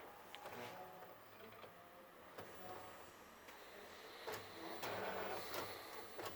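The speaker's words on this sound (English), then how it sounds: "Let's see if we can get a double-sided print here." An Epson WorkForce 3540 printer running a double-sided print job, with steady mechanical whirring and rolling paper feed punctuated by several sharp clicks and ticks, close and moderately quiet throughout.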